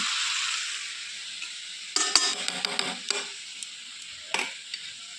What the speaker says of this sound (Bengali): দেখো এখানে মাংসটা আমার অনেকটাই ভালো করে ভাজা হয়ে গেছে